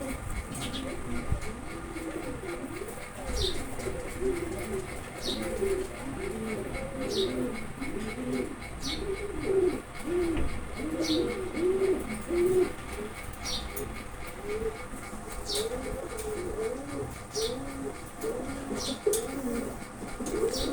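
A pair of Putul Sobji Gorra pigeons coo repeatedly at close range in a steady, rolling rhythm, with faint chirps and light background noise throughout.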